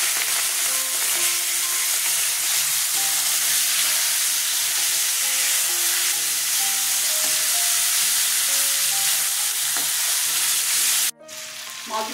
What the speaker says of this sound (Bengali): আমি সর্ষের তেল দিয়ে দিচ্ছি। মাছগুলো ভেজে নেব। মাছগুলো ছেড়ে দিচ্ছি।